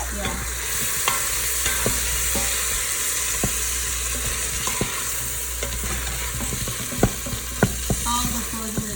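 Boiled potatoes for pav bhaji are stirred in an Instant Pot, with a steady low hum, a faint sizzle and intermittent scraping clicks of the spoon against the pot, growing sharper toward the end, with no talk.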